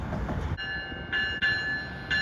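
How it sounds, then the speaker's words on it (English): Amtrak ACS-64 electric locomotives and a P42 diesel at Harrisburg station, giving a steady low rumble with a high tonal whine that breaks off and returns in short bursts, with no voices. "Couple of ACS 64s, and there's even a P42 here, number 96."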